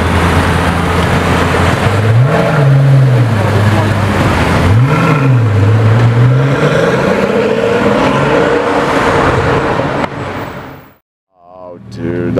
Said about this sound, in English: Pagani Huayra Roadster in the wild